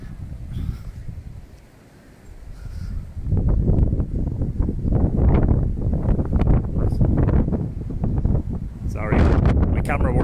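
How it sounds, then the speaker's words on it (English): Strong wind buffets a microphone outdoors on a sunny day, loud irregular rumbling gusts that ease for a moment, then surge back and continue. "It's very windy, but it's mild."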